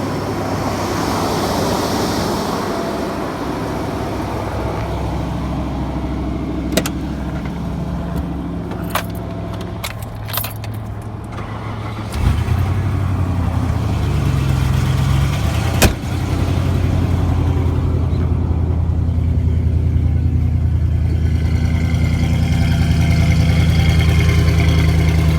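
A truck engine running at idle after a rough start, a steady close mid-pitched rumble that deepens and grows louder partway through, with a few sharp clicks and metallic jangles over it and no talk.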